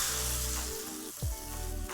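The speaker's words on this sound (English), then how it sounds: "add the fried rice crackers into the soup and let it sizzle" Crisp, loud sizzling crackles steadily as fried rice crackers are added to soup, over a low hum, with a couple of brief knocks partway through.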